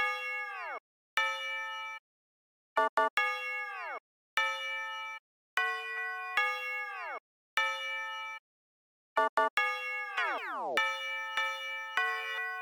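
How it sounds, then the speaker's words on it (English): A bright, classic bell melody from a Glo-style trap beat plays alone, chopped by rapid stutter repeats and a tape-stop effect that bends the notes sharply downward before the bell pattern resumes. "Now, you may have noticed that there are some tape stops or stutter effects in that bell"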